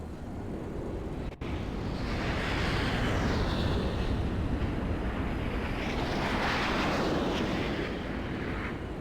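Aircraft roar past in a flyby during a Grand Theft Auto V community 9/11 remembrance, a broad rushing engine noise that swells, dips and swells again, steady and loud, with a sharp click near the start.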